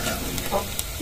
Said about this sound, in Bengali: তো এখানে পেঁয়াজ মরিচ ভাজতেছে, পেঁয়াজ মরিচ আর তেজপাতা আর জিরাও আছে